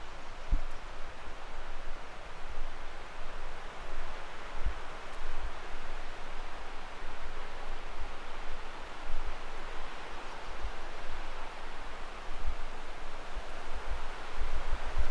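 A creek flows below a high, snowy trail in Lassen Volcanic National Park, a constant soft rushing wash heard from a distance, with faint breezy texture and no voices.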